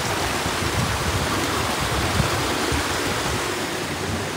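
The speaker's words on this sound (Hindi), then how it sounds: "ये म्यूज़िक सुनो यार पानी का, उसे एंजॉय करो" A rushing stream in Uttarakhand, near Pari Tal, pours steadily in a dense, continuous broadband wash of flowing water with no pauses, close and fairly loud, with no voices.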